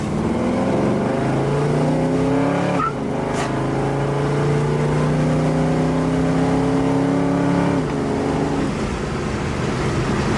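A 1967 Chevrolet Camaro SS convertible engine revs and pulls hard, its pitch climbing steadily under load, then shifting and climbing again, loud and close throughout.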